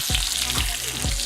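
Butternut squash sizzles and crackles steadily in foaming butter in a pan, with a few soft stirring or basting scrapes over the frying hiss.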